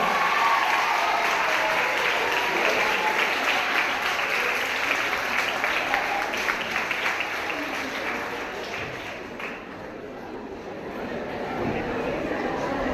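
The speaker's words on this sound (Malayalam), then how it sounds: "നിങ്ങൾ നല്ല ക്ലാപ്പ് എടുത്തോ" Students clapping together as a group, a dense, sustained burst of applause that fades slightly toward the middle before swelling again, with voices faintly mixed in.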